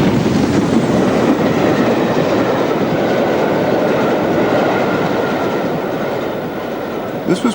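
A holiday steam train runs along the North Wales coast behind LMS Black 5 locomotive 5407, making a close, loud, continuous rush and rumble with rhythmic clatter from the wheels.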